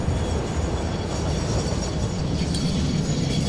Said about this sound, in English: So once this train leaves